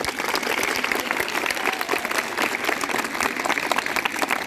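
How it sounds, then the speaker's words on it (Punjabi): Dense, steady applause from a school crowd at a Lohri celebration, many hands clapping together at close range for the full length with no pauses. "ਇੱਕ ਵਾਰੀ ਜ਼ੋਰਦਾਰ ਤਾੜੀਆਂ ਵੀ ਲਗਾ ਦਿਓ"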